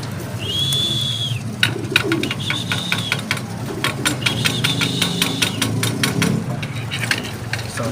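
Racing pigeons in a loft coo and call repeatedly at close range over a steady low engine-like drone, with sharp knocks and taps scattered throughout.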